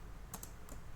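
Three quick, quiet keystrokes on a computer keyboard while someone types PHP code, heard close over a steady hiss with no talking.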